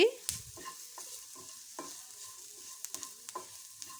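A spoon scrapes and stirs garam masala, chili powder and turmeric into frying egg curry masala, giving soft irregular clinks and scrapes over a faint sizzle, close and quiet.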